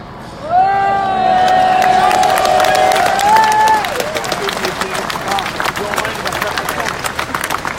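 A large rally crowd bursts into cheering, applause and whistles, one shrill whistle ringing out over the roar for a few seconds before the noise settles into sustained clapping and hubbub.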